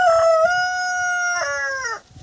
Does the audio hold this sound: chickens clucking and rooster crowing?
yes